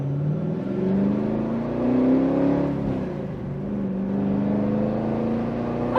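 A Camaro fitted with a new CenterForce clutch pulls away smoothly, its engine droning steadily with gently rising and falling pitch as it accelerates, heard from inside the car with no talk.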